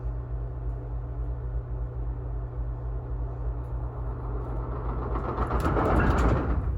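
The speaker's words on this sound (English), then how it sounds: "We had to let a freight train pass from the opposite direction." A freight train passes from the opposite direction while a passenger train sits stopped in a rail yard, a steady low rumble and hum building to a louder, rattling wash near the end.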